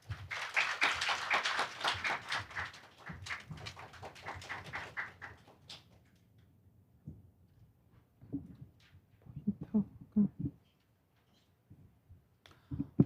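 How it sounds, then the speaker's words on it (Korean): An audience at a data forum applauding to welcome a speaker: brisk clapping for about five seconds that thins out and stops, followed by near silence with a few scattered rustles and clicks. "큰 박수로 맞이해 주시기 바랍니다"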